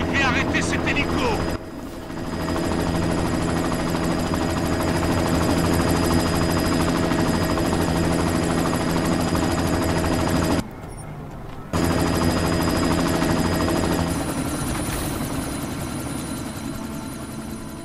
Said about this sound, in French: Il faut arrêter cet hélico!